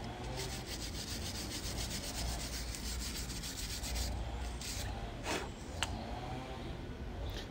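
Steady scrubbing and rubbing against corroded, rusty metal around the front brake area of a 2019 BMW 1 Series M Sport, a continuous close abrasive rasp with slight rhythmic strokes and a few small knocks.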